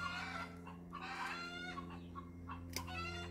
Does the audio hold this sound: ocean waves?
no